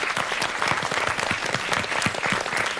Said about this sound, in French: on va peut-être faire un petit applaudissement